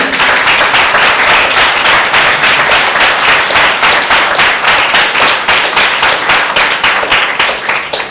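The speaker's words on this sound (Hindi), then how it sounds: "क्या ऐसे परमेश्वर को हम जोरदार ताली दें?" Loud, sustained applause from a church congregation at a Sunday meeting, dense clapping close up with quick rhythmic hand claps driving through it and no talk, tapering slightly near the end.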